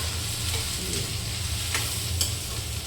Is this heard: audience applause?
no